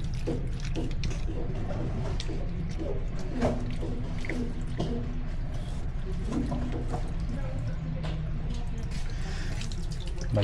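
Water gushes steadily from a deep well tap, a continuous broadband rush with faint dripping and splashing over it, close and unbroken throughout.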